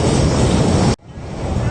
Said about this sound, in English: It's a little bit windy right now on the coast